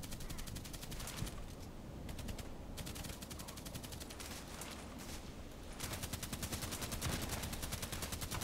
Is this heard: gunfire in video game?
yes